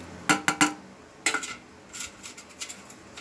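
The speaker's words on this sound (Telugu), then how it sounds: "వీటిని అన్నీ పిండిలో వేసి మిక్స్ చేసుకుందాం." Utensil clinks and scrapes while onion, green chillies, coriander and curry leaves are mixed into dosa batter in a bowl: a quick triple clatter, a second burst, then softer taps, close and without speech.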